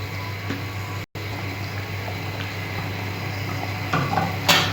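Ridge gourd fritters dropped into a pot of simmering curry gravy, a steady bubbling hiss with faint clinks of a utensil against the pot and a brief brighter splash near the end.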